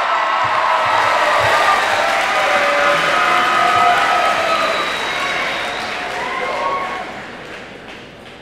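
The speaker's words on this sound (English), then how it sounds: "Let's hear the type of cheering we can expect tomorrow." A gym crowd at an academic decathlon event applauds and cheers continuously, with clapping and whoops blending into a loud wash that tapers off near the end.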